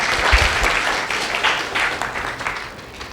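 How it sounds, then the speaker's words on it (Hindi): An audience claps for Multani ji at a Home Guard gathering, a dense, steady round of applause that thins a little toward the end. "चलिए तालियां बजाइए मुल्तानी जी के लिए"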